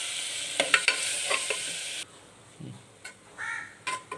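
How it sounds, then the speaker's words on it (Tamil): Ginger garlic paste sautéing in a pan while cooking quail gravy: a steady sizzle for about two seconds with a few scraping stir strokes, then quieter clinks and stirs close by. "இஞ்சி பூண்டு பேஸ்ட் போட்டு நல்லா வதக்கிறோம்."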